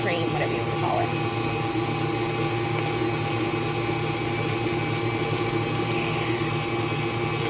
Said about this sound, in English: you'll hear it start sloshing some. That's it separating the buttermilk from the butter itself.